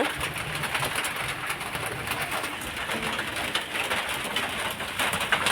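Steady rain patters on surfaces throughout, mixed with the soft repeated cooing of a pigeon nearby.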